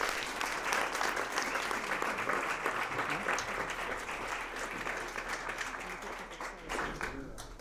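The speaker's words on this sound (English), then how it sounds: "So a round of applause for everybody" Sustained audience applause at the closing ceremony of a festival, a dense, steady wash of many hands clapping in a hall, fairly distant and even throughout with a slight fade near the end.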